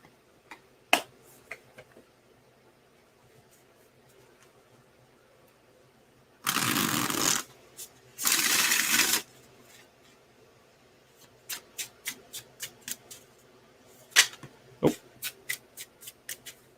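Two bursts of tarot cards riffle-shuffled, each about a second long, amid scattered light taps and clicks of cards being handled in a quiet room.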